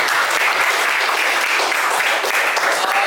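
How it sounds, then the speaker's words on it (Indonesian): A class of students clapping together in a classroom, dense and loud, sustained evenly from start to finish with no talking over it. "tepuk tangan dulu semuanya"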